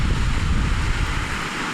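Strong wind at the seashore roaring and buffeting the microphone continuously, a dense low rumble with a faint wash of surf beneath, no voices.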